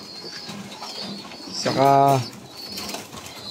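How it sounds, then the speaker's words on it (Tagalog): Checkered pigeons in a loft give one clear, close, throaty coo lasting about half a second amid soft background noise, with someone talking nearby. "Ayan mga ibon natin. Ang grupo ng mga checkered."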